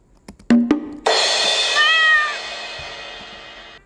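A cat meow sound effect of the Bongo Cat meme: a few sharp taps, then one loud, drawn-out meow that slowly fades, heard alone without talk.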